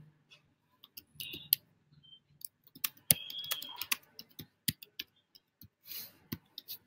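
Quiet, irregular keystroke clicks from typing on a computer keyboard, in short bursts and scattered taps with pauses between them.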